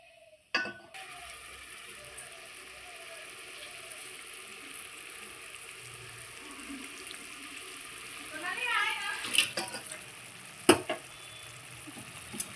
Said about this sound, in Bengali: যে বন্ধুরা আমার ঝোল ফুটতে শুরু হয়ে গেছে